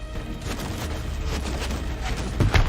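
Dull, rumbling explosions from the video game Left Alive, a steady heavy roar with muffled booms and a sharper burst near the end.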